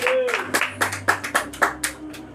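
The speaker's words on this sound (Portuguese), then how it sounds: "E as palmas louve ao Senhor." Congregation clapping hands in unison during a church service, about ten sharp, evenly spaced claps in a steady rhythm over a low sustained tone, with a voice briefly at the start.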